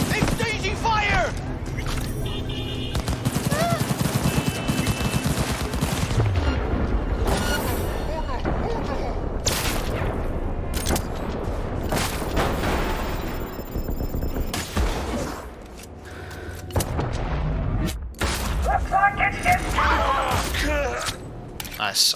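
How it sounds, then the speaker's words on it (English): A gunfire exchange in Cyberpunk 2077, with sharp bursts of shots and booms scattered through a dense, noisy fight, loud and close, while someone talks over much of the action. "Exchanging fire!"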